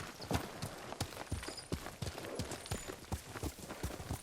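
Horse hooves clip-clopping at a gallop in the Ghost of Tsushima video game, a steady run of loud, close thuds with some game ambience behind them.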